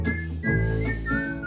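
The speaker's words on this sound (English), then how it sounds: "so I'm just gonna stop whistling" A person whistles a short melodic phrase up close, with clear sustained tones and slight pitch bends, against faint background hum during a casual singalong.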